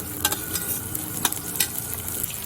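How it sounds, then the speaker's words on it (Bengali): Chopped green chilies dropped into a pan with grated ginger for bread chop filling, frying in a loud, close, crackling sizzle with quick bursts of spatter and stirring. "তিন চারটে কাঁচা লঙ্কা ছোটো করে কেটে নিয়েছি সেই কাঁচা লঙ্কাগুলো দিয়ে দিলাম"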